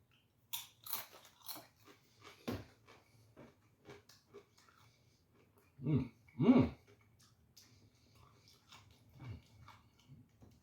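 Pepper X chips are crunched and chewed up close, with a few loud bites among quieter chewing and scattered small mouth sounds over a low background hum.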